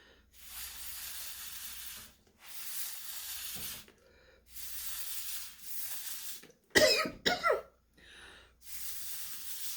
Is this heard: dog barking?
no